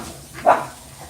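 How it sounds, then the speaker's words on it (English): Pet dogs indoors in the evening let out a single short bark that rises out of quiet room noise, fairly close and alone. "sorry if my dogs get loud, they're kind of obnoxious this evening"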